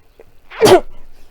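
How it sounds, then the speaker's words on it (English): A single sharp, explosive sneeze bursts out suddenly, close and loud, after a brief quiet intake. "Oh, I'm going to sneeze."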